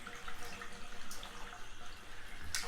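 Hot water runs from a tap onto a microfiber cloth in a steady, fairly quiet splashing stream, with a couple of brief louder splashes, nearby with no talking.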